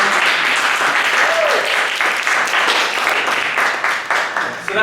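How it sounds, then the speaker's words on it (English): Steady round of applause from an audience after a blog analysis presentation, dense overlapping claps sustained throughout and tapering slightly near the end, with faint voices beneath. "let's give a round of applause"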